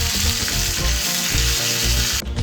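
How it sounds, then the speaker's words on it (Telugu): Tempering for a roasted brinjal chutney sizzles loudly in a pan of hot oil with mustard seeds, garlic, dried red chillies, curry leaves and coriander. The frying crackles close and continuous. "పచ్చడి తాలింపు కోసం స్టవ్ మీద ప్యాన్ పెట్టి ఆయిల్ వేసుకోవాలి."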